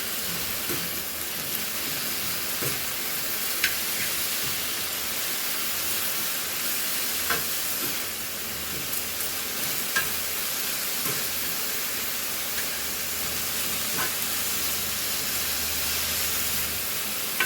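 Beef and peppers sizzle over a high flame in a pan, giving a steady, loud hiss that runs unbroken for the whole stretch, with a few faint clicks and no talking.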